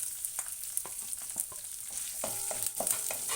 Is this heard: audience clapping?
no